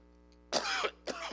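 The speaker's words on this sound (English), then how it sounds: "the cough today is just sinus or allergies" A person with a sinus or allergy cough gives two short, rough coughs in quick succession, close and fairly quiet over a low background hum.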